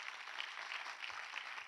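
Audience clapping at a motivational seminar on direct selling, a steady, even wash of many hands filling the room throughout, fairly faint and with no voices over it.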